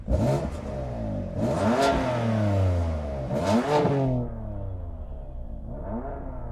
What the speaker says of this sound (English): let's have a listen to that BMW